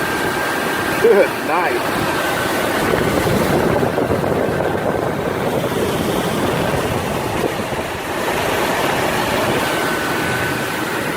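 A Fasco draft inducer blower runs with its cover off, its fan spinning at 3,000 RPM. It gives a steady, loud whirring roar with a thin tonal whine on top, and a voice speaks briefly near the start.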